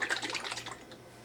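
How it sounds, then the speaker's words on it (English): Tomato French salad dressing from a 1952 Kraft recipe sloshes inside a container as it is shaken, a quick run of close, wet liquid bursts that fade away within about a second. "Give it a good shake each time before serving"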